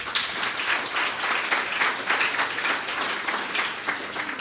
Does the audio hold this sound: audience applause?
yes